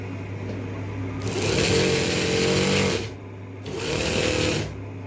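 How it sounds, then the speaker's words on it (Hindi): A sewing machine stitches a kameez in two close, steady whirring runs of rapid needle clatter over a constant motor hum, pausing briefly between them. "ऐसे ही हमने पूरी सिलाई लगा लेनी है।"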